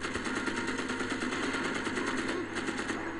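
Rapid shooting in the co-op fantasy action video game Magicka, a steady dense stream of crackling fire lasting throughout, fairly quiet and continuous.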